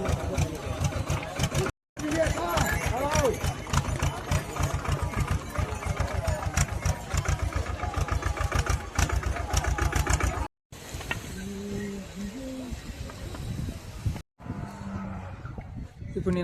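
A tractor engine chugs steadily and loudly on the steep Kedarnath trek, a dense rhythmic mechanical drone lasting about ten seconds before quieter outdoor sounds with brief voices follow.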